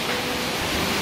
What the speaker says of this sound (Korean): 물 흐르는 계곡이 장난이 아닙니다.